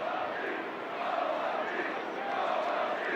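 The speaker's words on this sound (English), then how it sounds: "Another spirited crowd here tonight at the Big A, getting into this one in the 9th inning" A spirited baseball crowd at Angel Stadium in the 9th inning roars steadily, a broad wash of cheering voices with mild swells, heard at a moderate distance.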